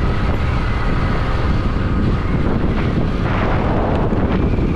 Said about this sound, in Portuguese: Ventando muito.